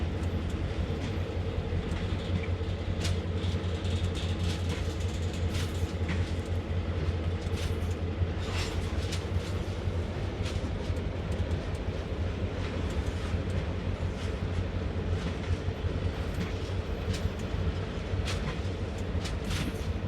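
An SW1000R diesel switcher locomotive idles and chugs steadily in Train Sim World on the Northeast Corridor, a continuous low engine drone with rail rumble and scattered clanks, moderately loud and unbroken throughout.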